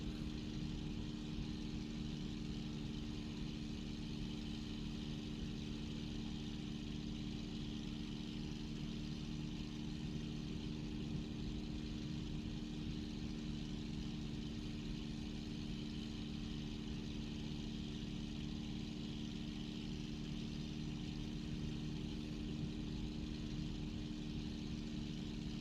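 A P-51 Mustang's piston engine idles steadily in Microsoft Flight Simulator, a continuous droning hum with a strong low rumble that holds at an even level throughout, with no talking.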